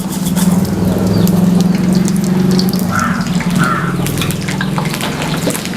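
Whole cinnamon, cloves, bay leaf and fennel seeds drop into hot oil for a mutton fry, giving a steady, loud sizzle that holds throughout with no talking.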